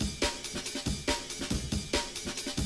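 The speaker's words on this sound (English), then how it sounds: "So this is a breakbeat sound that I've just added" Breakbeat drum loop layered into a Pokémon-style electric battle track, with punchy kicks, snares and bright hi-hats repeating in a tight syncopated pattern, loud and close with no talking.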